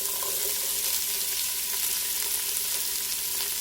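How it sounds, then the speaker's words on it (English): Celery, red and green bell pepper and onion sauté in a pot as a Louisiana gumbo base, giving a steady, soft, continuous sizzle with no talking. "so let these saute"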